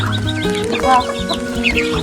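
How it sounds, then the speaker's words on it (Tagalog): Several chickens cluck and murmur close by while being fed corn rice, in a busy, overlapping flurry of short calls, with soft rustling underneath. "si mother nagpakain ng manok"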